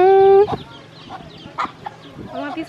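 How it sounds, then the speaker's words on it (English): Small chickens cluck in short, scattered bursts at close range on a farm, after a brief steady tone at the start. "Little chickens."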